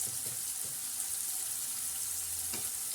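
Chili powder hits hot oil in a pan with a steady, close sizzle that runs the full length, joined by a few faint clinks of a utensil and no talk.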